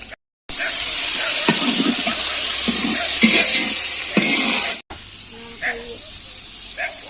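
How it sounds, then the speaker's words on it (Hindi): Chicken frying in a pan in a Pakistani home kitchen gives a steady, loud sizzling hiss, with occasional stirring scrapes and a brief break partway through. "हमने चिकन। मैं कहने लगा था आप डालनी है मुर्गी, फिर मैंने कहा आप डालनी है चिकन।"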